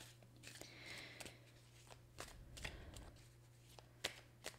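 Mystic Moon oracle cards are shuffled softly and close by in quick, uneven riffles and slaps, with a faint background hum and no speech.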